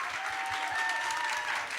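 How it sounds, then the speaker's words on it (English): A crowd at a business pitch competition applauds steadily, a dense patter of clapping hands with a faint tone ringing underneath. "Please, another round of applause to our guests."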